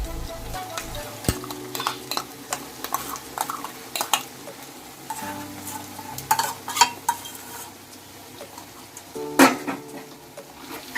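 A spice mixture sizzling with browned onions in a wok over medium-high flame, punctuated by repeated sharp scrapes and clanks of a spatula as it is stirred, close and fairly loud throughout.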